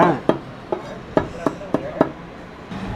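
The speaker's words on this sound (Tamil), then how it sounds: "கருவேப்பிலை தலை கொத்தமல்லி தலை இது ரெண்டையும் பாட்டியம்மா சாப் பண்ணிகிட்ருக்காங்க" Knife chops by hand through curry leaves and coriander on a board in a village kitchen, about seven sharp separate cuts at an uneven pace, near and clear against a faint background.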